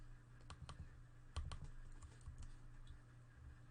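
Computer keyboard typing while coding, heard as a quiet sequence of scattered, irregular key clicks at close range over a low background hum.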